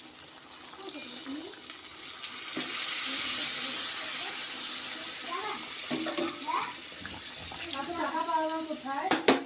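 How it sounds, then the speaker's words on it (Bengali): Water is poured from a vessel into a pan of frying meat curry in a home kitchen, a steady splashing rush that swells and then fades, with voices talking over the end. "আমি জলটা দিয়ে দিই।"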